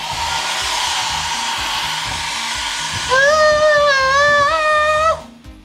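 A hair dryer blows in a Bali-inspired resort bathroom, a loud, steady rushing airflow that turns into a louder, wavering high whine partway through before cutting off abruptly near the end.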